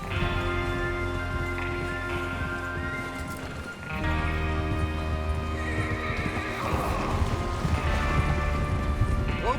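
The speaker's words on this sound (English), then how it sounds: "Get your horses ready." Horses in Red Dead Redemption 2 gallop with steady clip-clopping hooves and repeated neighs and whinnies, loud and continuous, layered over a dense game soundtrack with a brief dip near the start.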